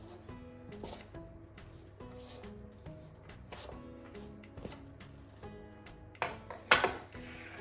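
Savory zucchini cupcake batter being mixed in a bowl, heard as a run of repeated light clinks and taps of a utensil against the bowl, growing louder and busier toward the end.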